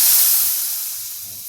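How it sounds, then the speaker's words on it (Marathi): Golden fried garlic tempering poured over cooked greens (karadai leaf gola bhaji) hits with a loud hissing sizzle that starts strong and slowly fades over a second and a half, with no voices. "आता ही फोडणी, या सोनेरी लसणाची फोडणी मी याच्यावर ओतते."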